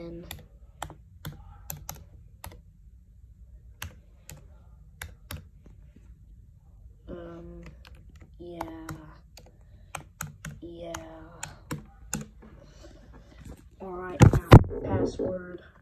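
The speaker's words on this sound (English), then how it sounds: "So let me just enter my Apple ID again." Typing on a Mac keyboard while entering an Apple ID, a steady run of sharp close key clicks with short pauses, quiet speech in the middle, and a louder burst of clacking near the end.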